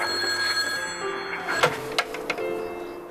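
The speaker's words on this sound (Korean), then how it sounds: "소은의 절친 선미에게 전화가 오는데" A telephone rings in a scene from a Korean fantasy film, a steady electronic ringing tone sounding under low background music, followed by a few sharp clicks or taps near the end.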